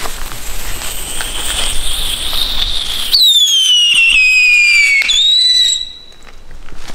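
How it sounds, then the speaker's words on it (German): A Funkeluftheuler firework whistles, first a hissing launch, then a loud, piercing descending whistle that shrieks for a couple of seconds, breaks off, and resumes briefly before dying away outdoors. "Funke Luftheule."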